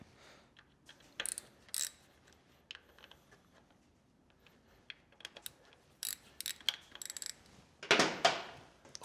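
A ratchet fitted with a T27 Torx bit breaks loose the clutch cover screws on a 2005 Harley-Davidson Softail Springer, giving quiet bursts of clicking and several sharp metallic cracks as screws free up, the loudest near the end.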